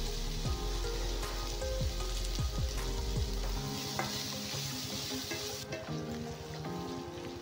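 Onions frying in mustard oil with garlic paste and chili make a steady close sizzle, with repeated stirring scrapes of a spoon against the pan.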